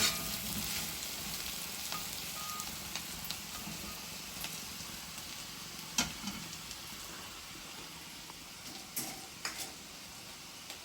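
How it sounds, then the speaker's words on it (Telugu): Small taro pieces and curry leaves crisp-fry in an iron kadai, with a continuous close sizzle broken by scattered clicks and scrapes as they are stirred, and no voices. "కలుపుతూ ఉంటేనే మనకి మంచి సౌండ్ వస్తుంది, గలగలగలగలమని"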